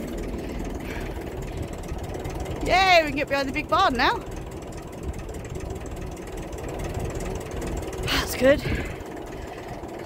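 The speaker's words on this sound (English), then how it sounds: "playing around with his tractor, clearing a load of brush." A farm tractor clearing brush behind a big barn runs with a steady low engine drone in the background while a person talks over it.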